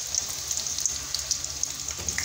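Garlic frying in hot oil in a steel wok (kadhai), giving a steady, close sizzle and hiss with no talking throughout.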